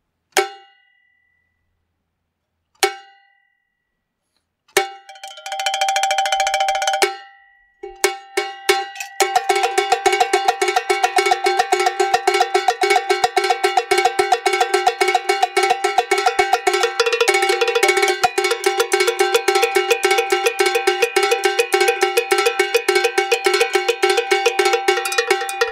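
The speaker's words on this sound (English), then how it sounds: "On the cowbell, it sounds like this." A cowbell drum set played like a full kit: a few isolated clanks, then a dense, fast metal-rock barrage of bright ringing clangs, close and loud, continuing without pause.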